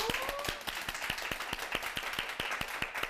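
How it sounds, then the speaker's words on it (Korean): A small group claps in a quick, steady rhythm, the sharp hand claps fairly close and even for a few seconds. "박수 주시기 바랍니다"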